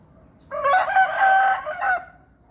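A fighting rooster crows once, close and clear, in a single drawn-out call of about a second and a half against a quiet background.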